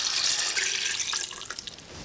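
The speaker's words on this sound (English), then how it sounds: "And then I'm going to put water in it, enough to cover the fish." Water poured over sardines in a pressure cooker, a steady loud rushing splash that thins slightly toward the end, close and without talk.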